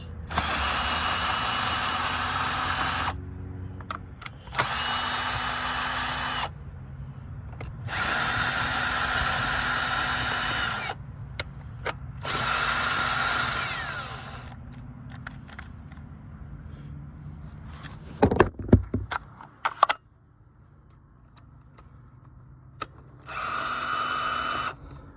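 A power tool, likely a drill or impact driver, runs out bolts on an Impala's intake, sounding in repeated loud bursts with a whirring motor and ratcheting clicks between short pauses, with clanking tool handling near the end.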